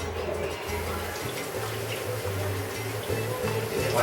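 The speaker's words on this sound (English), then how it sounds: "so I can drain my peppers or strain them. Take all that excess water off of them." Water runs and drains from peppers in a kitchen strainer as a steady close trickle with a low hum underneath, continuous throughout.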